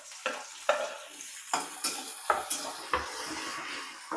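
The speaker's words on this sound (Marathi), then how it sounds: "थोडंसं तडतडलं ना, त्याच्यामध्ये लसूण ठेचलेला, टोमॅटो टाकते." Crushed garlic fries and crackles in hot oil in a home kitchen pan. A steady sizzle runs under several sharp scraping stir strokes spaced about half a second apart, with no talking.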